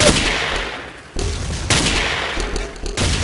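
Loud, close bursts of gunfire in the video game Ace of Spades, continuous volleys broken by a brief lull before the firing picks up again.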